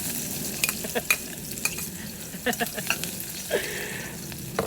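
Vegetables for Filipino pakbet hit a hot pan and sizzle steadily while a utensil stirs and scrapes with repeated clinks, close up and without talking.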